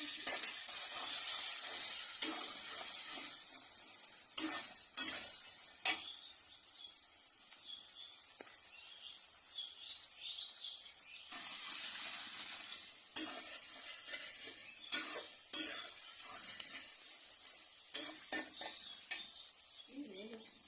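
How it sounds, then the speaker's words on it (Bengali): Chopped onions fry in hot oil until light brown, a bright, steady sizzle close at hand, punctuated by scrapes and clatters of a spoon stirring the pan, with faint insect chirping in the background. "পেঁয়াজ কুচিগুলো হালকা ব্রাউন কালারের ভেজে নিব।"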